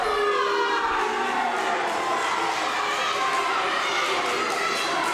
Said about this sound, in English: This crowd really getting on Morales' case.